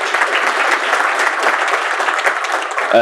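An audience at the 2021 Build Black Better access-to-finance event applauds steadily for three seconds, a dense, even wash of many hands, with a voice starting just at the end.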